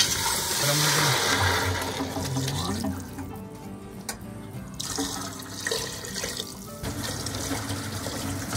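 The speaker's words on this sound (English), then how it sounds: "Altogether, we are using 12 cups of water." Water pours from a vessel into a pot of sautéed onions and butternut squash for vegetable broth, a loud continuous gush that lightens into a thinner stream and splashing pours with brief pauses.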